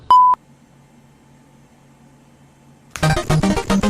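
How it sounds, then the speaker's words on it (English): A single sharp electronic answering machine beep, short and loud, followed by near silence with a faint hum, then a voice begins speaking. "Leave your message after the beep."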